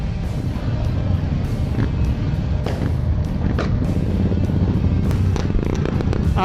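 Loud motorcycle exhausts roar and rumble continuously during a group ride in Kathmandu, with sharp pops and bangs breaking through a dense, wind-buffeted engine drone close to the microphone.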